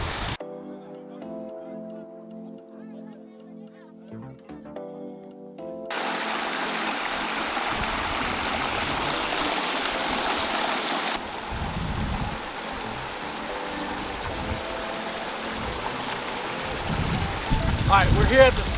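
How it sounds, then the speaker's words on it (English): Water flows down a large backyard pondless waterfall, a continuous splashing rush that grows fuller and louder partway through, with brief tonal sounds and faint background noise early on. "we're here at the top of this waterfall, and what we did is we split it to 2 entryway points."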